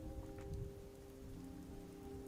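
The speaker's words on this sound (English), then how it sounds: "you start feeling the rain hitting yourself" Rain sound effect from a tabletop fantasy role-play session, a steady faint hiss of drops falling on a surface, continuous and even, with no voices.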